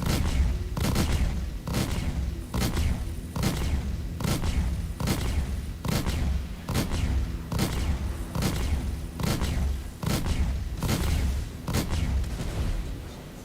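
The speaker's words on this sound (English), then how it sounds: "so Chad, feel free to spam some missiles then" Missiles fire in rapid succession in Star Citizen, a steady rhythm of sharp, booming launches about every three-quarters of a second, loud and close for the whole stretch with no talking.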